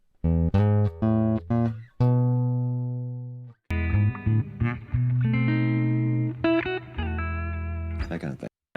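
A blues turnaround lick on guitar, with quick single notes, a slide and ringing open strings, pausing once on a sustained note before running on.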